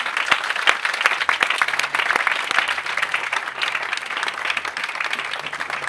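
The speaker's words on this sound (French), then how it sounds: "On acclame fortement le Seigneur Jésus." A church congregation applauding loudly in acclaim of Jesus, dense continuous clapping with a few sharp individual claps standing out, sustained throughout.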